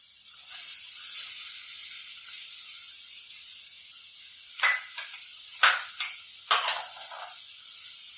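Capsicum goes into a pav bhaji pan and fries with a steady high sizzle. A few sharp scrapes and clanks of a stirring spoon land near the end, close and clear, with no talk.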